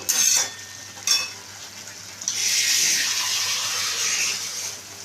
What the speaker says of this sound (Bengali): এটার মধ্যে আরেকটু জল দিচ্ছি।